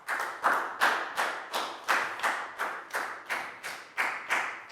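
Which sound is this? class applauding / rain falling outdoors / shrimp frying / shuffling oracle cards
class applauding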